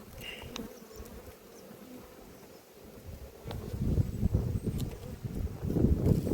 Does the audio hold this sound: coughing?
no